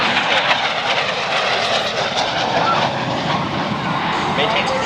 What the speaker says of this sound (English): the pilot will decelerate from 500 to 0 knots, utilizing the movable thrust nozzles